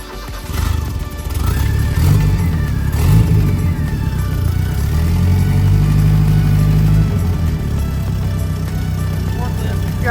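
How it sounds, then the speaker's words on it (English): A modified employee's car with a rough, uneven idle is given a few revs, the engine rising and falling in a loud low drone close by while people talk over it. "You gotta give her a little rev, man."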